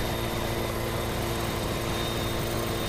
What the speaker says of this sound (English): Now this helicopter should go faster than 74 miles an hour.